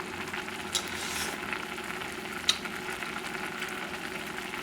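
Cabbage noodles simmer down in stock in a pan, giving a steady, continuous bubbling sizzle with a couple of faint clinks, close and moderately quiet.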